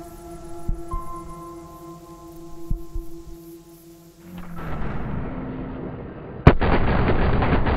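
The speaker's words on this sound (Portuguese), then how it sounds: "já tava tendo tiroteio aqui" Heavy booming gunfire from the video game DayZ Arma 3 crackles in several loud shots and bursts over a droning background, ending in a sharp blast followed by sustained rumbling noise.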